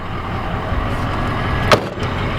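A Ford Excursion truck's engine rumbles steadily at idle, with one brief click or knock near the end.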